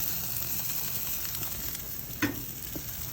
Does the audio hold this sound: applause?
no